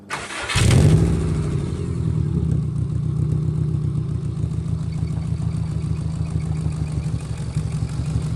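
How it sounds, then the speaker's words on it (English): A Subaru WRX engine with an exhaust leak cranks and catches, then settles into a loud, rough, rumbling idle with a raspy, blatting exhaust note that holds steady throughout. "I'm barely in third gear and look how loud this thing sounds"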